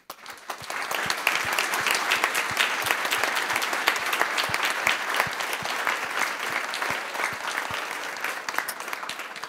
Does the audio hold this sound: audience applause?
yes